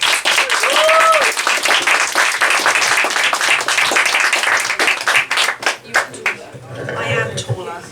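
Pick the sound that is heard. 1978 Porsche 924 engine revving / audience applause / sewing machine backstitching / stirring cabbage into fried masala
audience applause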